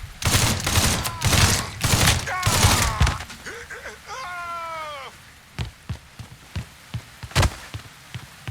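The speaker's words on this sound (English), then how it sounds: "Fucker won't stop shooting!" Gunfire in the video game Mafia III: dense bursts of loud, close shots for about three seconds, then a lull with a sliding tone, then scattered single shots and thuds at uneven intervals.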